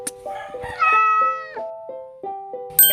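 A cat meows several times in a row, the tonal cries rising and falling in short separate bursts, set in a beginner English reading lesson for children.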